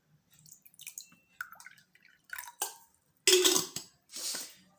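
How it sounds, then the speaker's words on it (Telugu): Water splashes and pours into a glass in short bursts, several separate trickles followed by two louder pours near the end, close by with no talking. "నీరు పోయండి"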